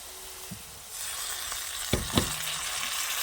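Ground spices hit hot oil with potatoes and vegetables in a pan for a mustard and green chilli bata fish curry, a steady close sizzle broken by two sharp stirring clanks.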